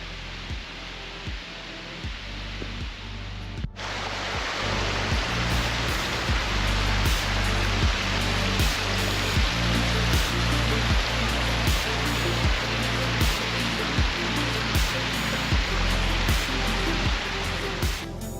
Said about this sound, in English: Taking a quick side tour to look at this beautiful creek.